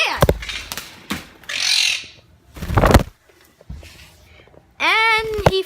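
A Quaker parrot indoors squawks harshly, with scuffling and wing-flapping movement in short bursts. A loud, ringing squawk closes the sequence.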